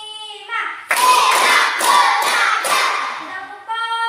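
A class of children claps in unison in a counting clap game, several loud, sharp group claps in steady rhythm, with a chanting voice before and after.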